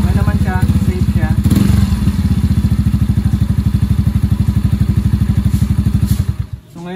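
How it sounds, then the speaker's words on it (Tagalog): A motorcycle with its stock muffler pipe runs close by, giving a loud, fast, regular chugging exhaust pulse that holds steady for several seconds before cutting off abruptly near the end. "So maingay lang siya ng konti sa stock natin na pipe."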